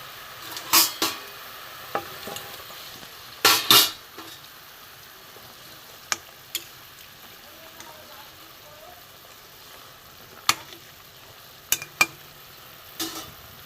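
Brinjal curry in a mustard-poppy seed gravy simmers in a pan with a soft, steady hiss, broken by a few sharp spoon clicks and scrapes against the pan.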